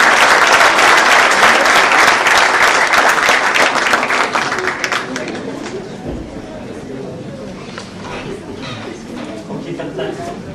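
Loud, dense applause fills a hall at a 2014 graduation ceremony in Rabat, then tapers off over several seconds into scattered claps and quieter room murmur.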